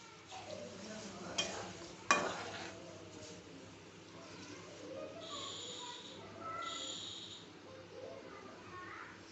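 Herbal coconut hair oil boiling in a pan on a gas stove, with a low steady bubbling hiss, a couple of sharp utensil knocks against the pan early on, and soft stirring scrapes throughout.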